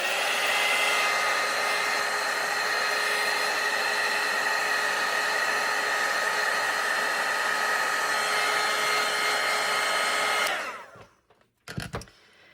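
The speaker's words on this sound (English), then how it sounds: "And I'm going to dry it." A hair dryer blows steadily and loudly on a watercolor painting for about ten seconds, a constant whirring roar that then cuts off, followed by a short clatter as it is set down.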